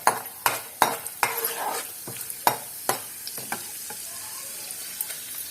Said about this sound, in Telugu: నూనె వేడెక్కింది, ఒక్కొక్కటి వేసేసుకుందాం. శనగపప్పు, మినప్పప్పు, ఇవి కొంచెం వేగాక